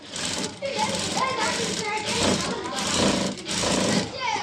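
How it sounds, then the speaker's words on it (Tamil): A sewing machine stitches a blouse button placket, running in a loud rapid rattle that stays close and continuous while someone talks over it. "இப்போ இதுக்கு மேலே ஒரு அமுக்கடி அடிக்கிறோம்"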